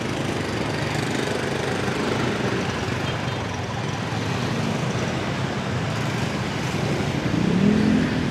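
Continuous road traffic noise while riding a motorcycle through slow, congested traffic, a dense steady engine and road roar with a brief louder engine swell near the end and no talking.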